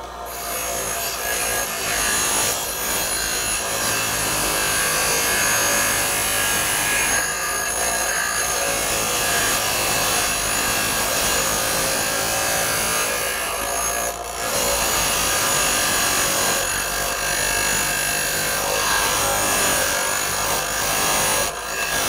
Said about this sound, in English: going to start grinding our steel. We're going to basically grind to our line